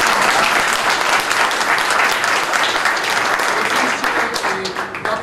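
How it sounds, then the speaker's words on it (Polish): Applause at an award ceremony for a children's homes jorkyball tournament, a loud dense crowd clapping throughout that tapers slightly at the end. "Brawa dla pana Tomka."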